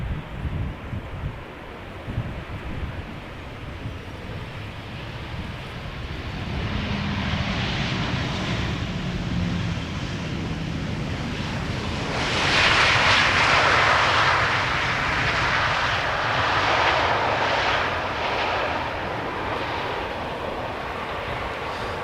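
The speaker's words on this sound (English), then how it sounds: "here we have KLM flight 1002 arriving from London Heathrow. 737-800, 40 minutes underway, 13 years old" A KLM Boeing 737-800 airliner, thirteen years old, arriving from London at Amsterdam Schiphol Airport, its jet engine roar building steadily and swelling loudest midway as it passes, with wind buffeting the microphone throughout.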